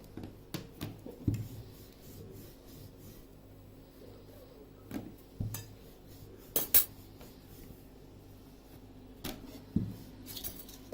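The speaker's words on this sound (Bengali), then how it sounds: "এভাবে করে কাঁটা চামচ দিয়ে ডিজাইন করে ফেলতে পারেন" A fork presses a pattern into the sealed edges of spicy chicken-filled puli pitha dumplings, giving sparse, sharp little taps and clicks at irregular intervals against a quiet background.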